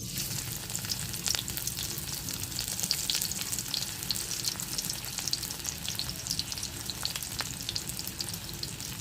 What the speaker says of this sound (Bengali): ফ্রাই প্যানে তেল দিয়ে আমি পেঁয়াজ বেরেস্তা করে নেব।